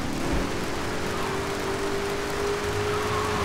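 Steady hiss of rain in Grand Theft Auto III over a low car engine hum, constant and fairly loud, no voices.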